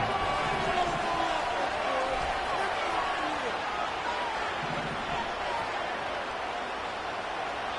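Stadium crowd roar in an American football video game, Bengals versus Colts, forms a loud, steady wash of noise throughout with no breaks.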